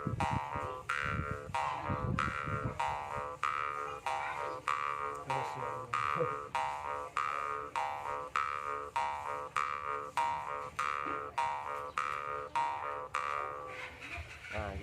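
Karinding bamboo mouth harp imitating the tonggeret cicada, a buzzing twang pulsed in a steady fast rhythm of repeated strokes, close and fairly quiet, played alone.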